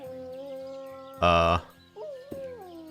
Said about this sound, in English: What is that noise? And it's definitely a dog.